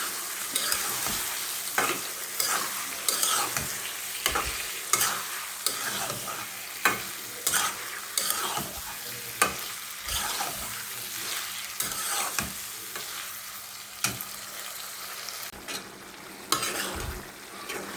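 Chicken with ginger and spices sizzles and fries in a pan during a home cooking session, with repeated stirring scrapes and clinks of a utensil against metal, steady and close, with no talk.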